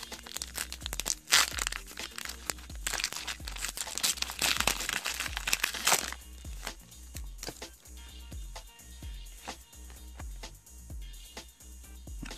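Pokémon Lost Thunder booster card packs being torn open from an Elite Trainer Box, loud crinkling foil wrapper close up, then quieter rhythmic taps and shuffles of the cards.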